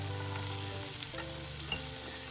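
Garlic and mushrooms fry quietly in a pan, a soft, steady sizzle and crackle for a Quebec-style moules au gratin.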